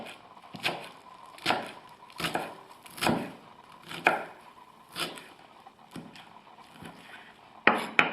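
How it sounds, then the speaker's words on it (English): A knife chops continental parsley on a board in a steady rhythm of sharp, close thuds, about one per second, with quiet gaps between each cut. "we'll now cut a bit of this, which is continental parsley"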